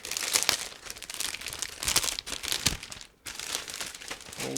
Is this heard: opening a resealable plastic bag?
yes